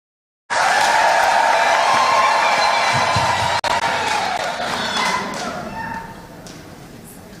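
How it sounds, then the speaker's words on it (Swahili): Ululations and cheering from a crowd at a NARC Kenya national delegates conference at Ufungamano House, Nairobi: a loud, sustained shrill chorus that thins out and fades toward the end. "Mbona vigelegele hazitoshani?"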